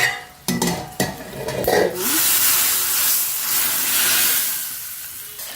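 Cinnamon bark and spices tempering in hot oil for sambar, a loud sustained sizzle and hiss that takes over after a few clinks and stirring sounds of a pan at the start.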